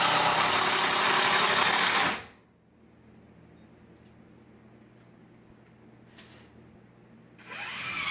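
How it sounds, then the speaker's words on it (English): A power drill drives screws into wooden wall framing boards for a gas fireplace insert, a loud steady whine for about two seconds, then near silence, then the motor spinning up again at the end. "Put a couple screws in each board."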